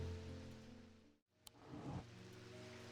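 Steady rain ambience from the occult shop sim game Strange Antiquities, a soft continuous hiss with a brief dropout and a small click midway, moody and even throughout.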